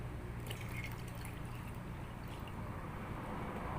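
Water poured into a bowl of eggs for waffle batter, a steady low liquid rush with light dripping and trickling running close and continuous, with no talking.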